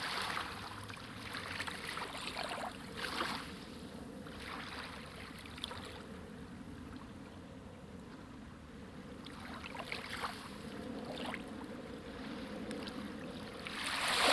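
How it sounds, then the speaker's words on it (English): Ocean waves roll in with the incoming tide, a soft, distant wash that swells and recedes in slow, irregular surges over a steady background hiss, with no voices. "The sound of waves is one of the oldest sounds a human body"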